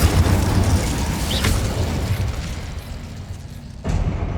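Spell blasts boom and crackle in Hogwarts Legacy combat, a dense run of heavy explosions and bursts with rumbling low end, loud and continuous, ending in a fresh impact.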